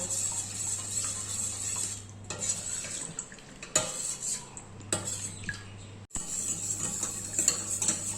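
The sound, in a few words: milk being whisked for sweet curd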